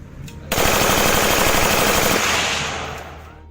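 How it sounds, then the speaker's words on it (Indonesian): A military assault rifle fires one sustained full-automatic burst of rapid, loud shots that ends abruptly, with the echo fading afterward. "Juga mampu full otomatis, memberondongkan peluru selama picu senjata ditekan."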